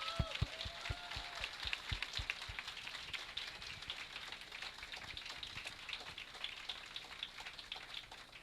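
A room of classmates applauds at a user experience design student final project showcase, with clapping that begins in sharp individual claps and swells into a steady, dense patter that carries on for several seconds.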